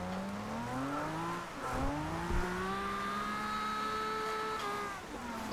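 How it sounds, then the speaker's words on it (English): A 1969 Nissan Fairlady Z in the Forza Horizon 2 racing game slides loosely on a rain-soaked road, its engine revving and falling in pitch over several seconds, loud and steady, with a faint hint of tire squeal. "Okay, we got it sliding a little bit though."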